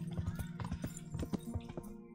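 Horse hoofbeats from riding in the medieval video game Kingdom Come: Deliverance, a quick, quiet, irregular clip-clop lasting about two seconds.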